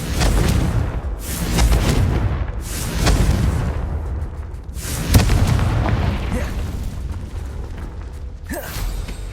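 Fiery Confringo spell blasts in Hogwarts Legacy, a series of loud booming bursts with mechanical creaks between them, repeating every couple of seconds at close range.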